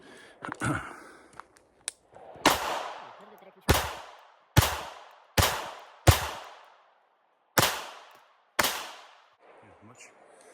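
Seven sharp gunshots from an officer-size 1911 pistol fitted with Pearce finger-groove grip inserts, fired one at a time at a steady pace, loud and close, with brief speech at the start.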